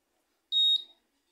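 A single electronic washing machine beep, high-pitched and steady, lasting about half a second and fading quickly, with quiet surroundings.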